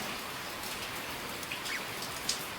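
Rain falls steadily outdoors around a household where caged birds are kept, an even soft hiss of drops with a few faint patters and drips nearby.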